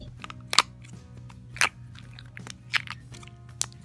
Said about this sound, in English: It's obviously a blue color, and it's kind of fluffy, jiggly, clicky slime.